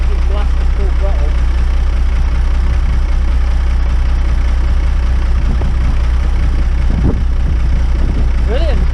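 Car engine idling with a slight misfire after a fuel pipe repair, a steady low drone with faint uneven stumbles, heard close with some background noise and a couple of brief squeaks.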